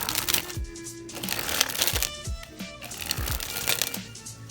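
A Gemini Superfly Dazzle playing card deck is sprung from hand to hand, giving repeated rapid riffling bursts of card flicks with short pauses between, close and crisp with no talking.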